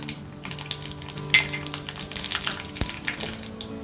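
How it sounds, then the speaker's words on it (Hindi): Mustard seeds and cumin crackle and sizzle in hot ghee in a pan, a busy popping spatter with a few sharp snaps running steadily throughout, close and fairly loud with no voices. "घी गर्म हो गया है। अब हम इसमें डालेंगे राई, जीरा।"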